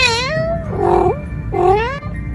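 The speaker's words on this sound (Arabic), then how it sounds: "وبقى صوت القط مرعب" A cat meows twice, loud and close, each call a drawn-out wavering cry with a short pause between them.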